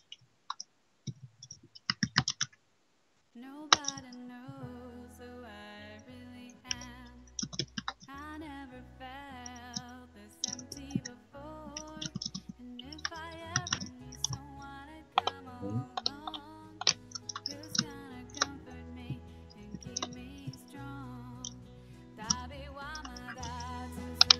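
Computer keyboard typing during a Town of Salem game, steady quick key clicks running throughout over busy game music and sound effects.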